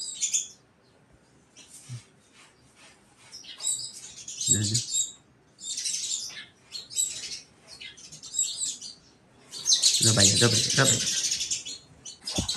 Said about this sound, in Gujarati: અને બહાર જો આ ચકલા દેકારો કેટલો કરો છો